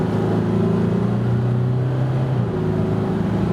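A Volkswagen Amarok V6 TDI diesel pickup engine drones steadily as it accelerates from about 70 to 100 km/h, a continuous low hum with road noise, fairly loud and uninterrupted throughout.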